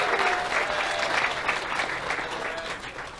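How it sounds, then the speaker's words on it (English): A crowd at a knife-making competition show applauds a custom knife maker, with steady, dense clapping and faint cheers from many hands throughout, gradually tapering near the end. "So let's hear it for Lucas Burnley of Burnley Knives."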